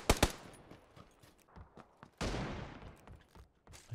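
Gunfire in PUBG: a couple of sharp close shots open, then scattered quieter shots and a longer burst, with distant pops spread across the clip and no talk.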